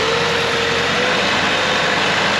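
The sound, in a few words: 2007 Chrysler PT Cruiser 2.4 engine revving on throttle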